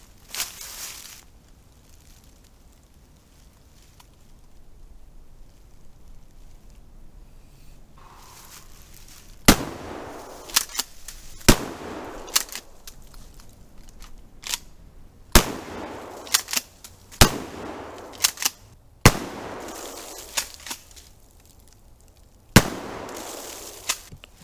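A Mossberg 590 Shockwave 12-gauge shotgun fires a series of roughly nine sharp, booming blasts at uneven intervals, with quiet pauses between them.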